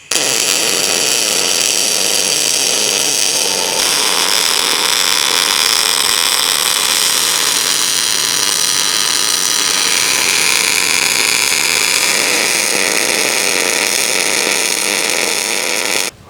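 Solid-wire MIG welding with a Miller Multimatic 220 using 0.035 wire and C25 gas, producing a loud, close, continuous crackling hiss that holds steady for the whole stretch with no talk over it.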